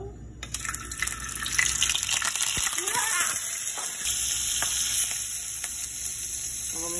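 Wet, semi-frozen shrimp sizzling and spattering loudly in hot oil in a frying pan, a steady close crackle with sharper pops, and a voice speaking nearby.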